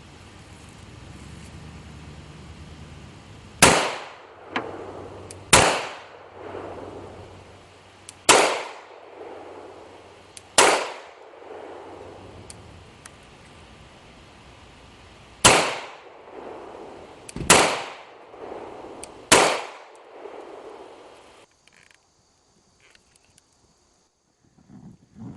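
Eight sharp, loud gunshots from a CAA Micro Roni carbine fitted with a stabilizing brace, fired outdoors at uneven intervals, each crack trailing off in a short echo, followed by quiet.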